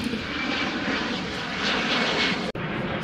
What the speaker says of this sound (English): Oh, I see the plane.